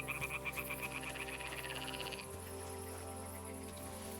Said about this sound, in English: Oh, I miss frog sounds.